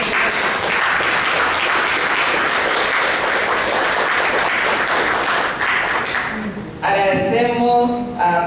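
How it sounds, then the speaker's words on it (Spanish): An audience breaks into loud, steady applause at a memorial tribute, sustained clapping filling most of the clip before a voice begins speaking over it at the end. "Un aplauso para ellos."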